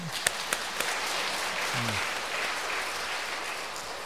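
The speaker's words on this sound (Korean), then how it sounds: "가운데 빨간 옷 입은 여인에 박수 한번" Applause from a church congregation for a woman in red, a steady scattered clapping held at moderate distance for several seconds, with a few sharper claps and a brief voice near the start.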